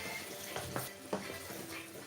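Apples being stirred through caramel in a pan for a tarte tatin, with soft scraping strokes and light sizzling, a few brief louder clinks of the utensil against the pan.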